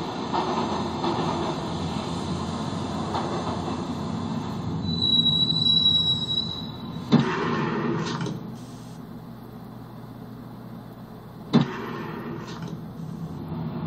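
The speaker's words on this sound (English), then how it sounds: "The train doors had already shut behind me, and I was in for the ride." A train ride in the Max Payne Mobile video game: a steady rolling rumble of the rail car with a faint high squeal, broken by two sharp metallic clunks near the end. No voices.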